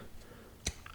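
One short, sharp click from a Spyderco folding knife's blade action sounds up close, followed by a fainter tick in a quiet room.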